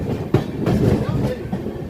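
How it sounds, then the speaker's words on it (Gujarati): A train starts moving near Dhola Junction, rumbling at low speed with a few heavy clanks and rolling wheel noise, the movement sounding slow and close. "ટ્રેન ધીરે ધીરે હાલતી થઈ ગઈ છે"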